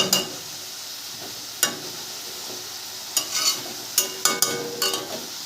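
Masala spice paste for a rui fish and cauliflower curry sautéing with a little water in a pan, a soft steady sizzle broken by occasional sharp scrapes and taps of a stirring spoon, close by and without speech.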